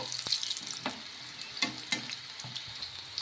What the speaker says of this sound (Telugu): రెండు వైపులా ఇంకా గోల్డెన్ కలర్ వచ్చే వరకు ఫ్రై చేసేసుకోవాలి